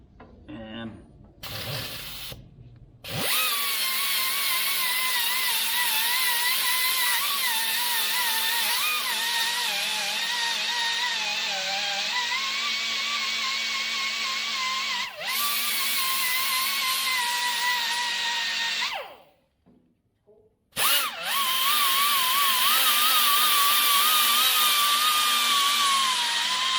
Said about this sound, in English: We'll just take a brown Scotch-Brite cookie